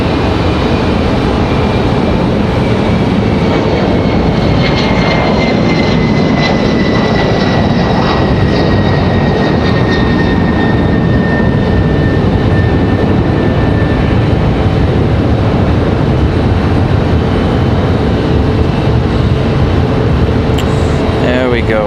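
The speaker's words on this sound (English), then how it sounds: "Looks like we got a little E175 here ready for departure." A Delta Connection Embraer E175 regional jet departing at Raleigh-Durham airport, a loud continuous engine roar with a slowly falling whine, heard from nearby throughout.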